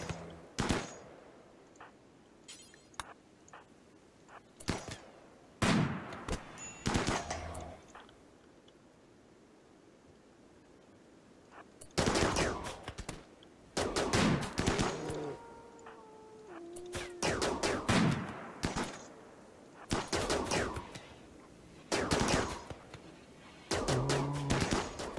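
Scattered gunshots in the colony-survival game RimWorld ring out in short bursts and single cracks, with quiet gaps between volleys and a busier stretch of rapid firing toward the end.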